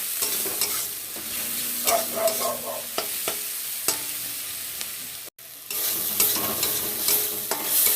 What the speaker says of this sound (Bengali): পেঁয়াজ আদা রসুন কাঁচা লঙ্কা হলুদ তেজপাতা ফোড়ন দিয়ে মশলাটা কষিয়ে নিলাম